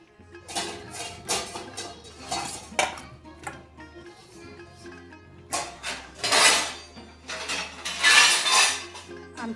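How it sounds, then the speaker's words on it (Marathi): A child plays with kitchen pots and utensils at home while oil heats on a tava, producing repeated irregular metallic clangs and clinks in several loud bursts with short pauses between them. "आमची मॅडम भांड्यांसोबत खेळते."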